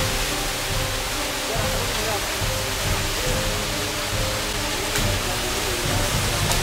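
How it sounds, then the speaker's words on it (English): A jungle waterfall in Byrnihat, Meghalaya gives a steady, broad rushing roar of falling water that fills the whole scene at a constant level, with no speech heard. "In the middle of the jungle, and here you can see the waterfall."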